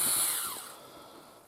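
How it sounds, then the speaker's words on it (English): A Katsu assembly-line torque screwdriver whirs at a workbench. It gives one brief, close, high motor whine that fades away within about a second. "It is a Katsu assembly line screwdriver"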